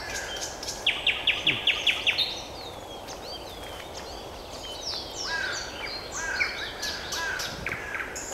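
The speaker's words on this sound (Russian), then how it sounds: "Ну ладно, слушаем соловья." Outdoor nightingale song with a rapid run of repeated high notes followed by varied whistles and trills, moderately distant, over a constant noisy background with crows cawing.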